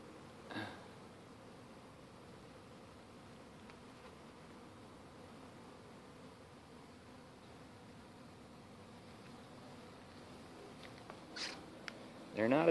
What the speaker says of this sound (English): There's just a lot of bees.